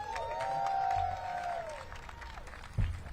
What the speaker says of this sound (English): let's give a warm round of applause to Mayor Muriel Bowser